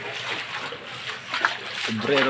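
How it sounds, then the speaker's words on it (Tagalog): Floodwater splashes and sloshes through a flooded street in Obrero, Bulan, Sorsogon, a steady watery churn running close under a voice. "Sobrang baha dito guys sa amin sa Bulan Sorsogon"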